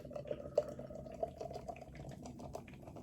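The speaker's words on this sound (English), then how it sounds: "I'm going to give her a Nitro pour" Anspach & Hobday London Black nitro porter pours into a glass as a soft, steady liquid rush with a few small drips and clinks, quiet and close with no talk.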